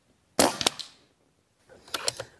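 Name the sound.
Rossi Outlander rifle firing a slug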